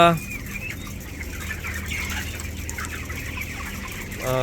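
Chickens cluck steadily throughout a poultry shed, a dense flock of overlapping calls running close and continuous over a low background hum.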